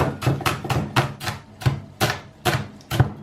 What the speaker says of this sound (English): Just keep chopping them up.